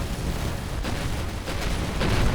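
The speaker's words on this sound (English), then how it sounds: "Oh, nice big explosion there." A space-combat explosion in the video game Avorion rumbles as a dense, continuous roar of low booms and crackling blasts, loud and close, with no talk over it.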